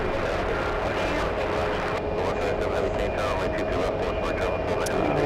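A fixed-wing airliner, the Columbus flight, sits waiting at JFK airport, its engines giving a steady, broad roar that holds constant throughout while a voice talks over it.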